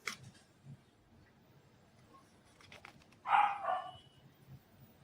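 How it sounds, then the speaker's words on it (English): A dog barks outside a gate, a single short bark in the distance amid low background murmur, with faint knocks and taps just before it. "Listen to the dog barking, Damo."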